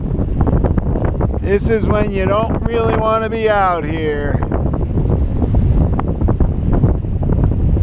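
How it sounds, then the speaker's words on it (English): Strong wind buffets the microphone over a river where the wind runs against the tide, with water and waves underneath; someone talks through the steady roar for most of the stretch. "Here it is, wind going against the tide again."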